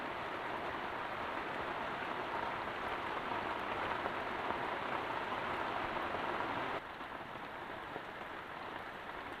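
Heavy rain drums steadily on a garden hut on a forested hillside, a dense, even hiss that holds constant, then softens slightly near the end.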